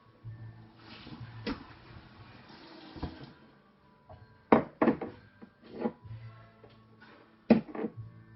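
A kitchen tap runs water for a sponge toffee recipe, starting as a soft steady flow and then breaking into splashy bursts and clunks as the stream is turned and caught.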